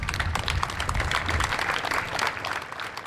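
Well-wishers lining a street applaud as a funeral cortege for a young girl passes, a steady, dense wash of clapping from many hands at moderate loudness that continues throughout without spoken voices.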